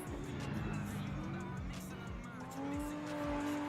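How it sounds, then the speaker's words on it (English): Drift cars at a drift championship final round, engines roaring and revving with tires squealing in long sustained tones, loud and continuous, while a commentator talks over the action. "a little shallow up from Alexander as they come into these last two clips, trying to drag race away from him"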